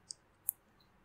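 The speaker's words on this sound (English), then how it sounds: "And then portrait, click on OK." Two faint, sharp computer mouse clicks, close together and quiet against a near-silent background.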